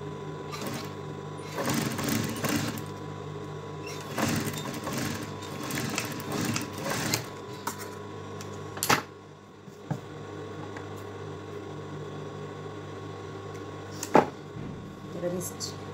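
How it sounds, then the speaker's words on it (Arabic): A sewing machine stitches an old djellaba being remade into a new style, running in steady motor bursts with brief pauses and a few sharp clicks, close and moderately loud. "غادي ندوز الخياطة"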